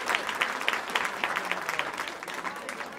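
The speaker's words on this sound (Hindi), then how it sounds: "एक जोरदार ताली होनी चाहिए" Audience at an award ceremony at the Gangasagar Mela in Kolkata claps in a steady, lively burst of applause that tapers slightly toward the end.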